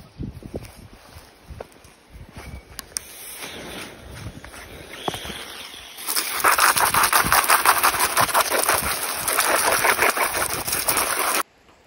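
A garden hose pipe turned up to full blasts water onto something outdoors, a strong steady hiss rising halfway through and then cutting off abruptly, after quieter rubbing and movement noises.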